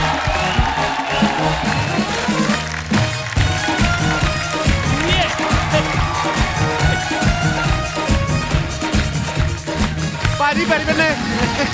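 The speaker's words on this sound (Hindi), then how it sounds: "आप सबकी जोरदार तालियों के बीच आओ शक्ति कपूर साहब।" A comedy show studio audience applauds as a guest enters, with loud clapping and cheering mixed with strong rhythmic music and show sounds throughout.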